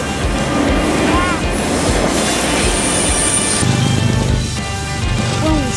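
Long double-stack freight train of about 180 cars rolls past close by, a loud continuous rumble with clacking wheels and high metallic squeals over the steady roar.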